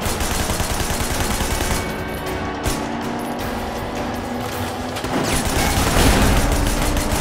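Dense gunfire from Sleeping Dogs, an open-world action video game, with rapid shots aimed at a vehicle's tyres. Continuous loud bursts run throughout, swelling near the end, with no talk over them.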